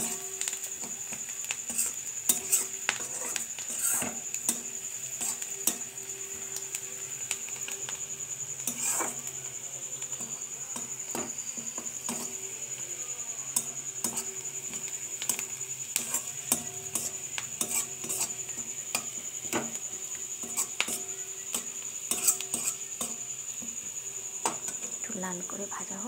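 Onion stirred and fried in butter with a little sugar in a pan, a soft steady sizzle under frequent light clinks and scrapes of a spoon against the pan, close and continuous.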